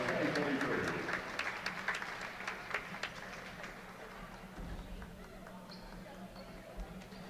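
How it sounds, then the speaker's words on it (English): Applause for the graduating senior class fills a volleyball fieldhouse at a college match between Carson-Newman and Coker, loud at first and then fading to scattered claps and crowd murmur. "one more warm round of applause for our senior class"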